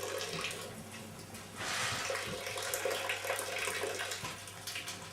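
Water running from a tap during an all-grain lager brew, a steady rushing flow that turns louder and brighter partway through, then settles, with faint clinks beneath.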